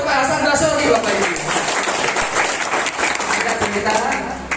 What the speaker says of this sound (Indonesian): Tepuk tangan buat Pak Hasan Basori Bapak Ibu